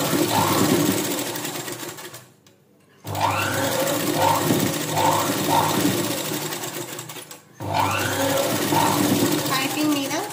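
A sewing machine stitches fabric lining onto piping in two long, steady whirring runs with a short pause between, close and loud, and faint speech sits under the motor.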